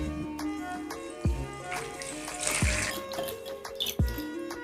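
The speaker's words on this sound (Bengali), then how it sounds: "বন্ধুরা, এবার বেগুনগুলো একটু ফ্রেশ করে আমি ধুয়ে নেবো" Tap water runs at low volume while eggplants are rinsed in a kitchen sink, with a few soft thuds and splashes from handling the vegetables and faint clinks scattered through.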